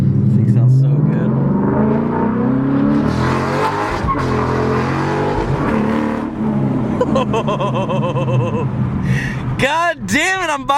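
A fast car's engine revs hard while driving, roaring loud and close with rising and falling pitch sweeps as it accelerates and shifts, ending in sharp, wavering high whines.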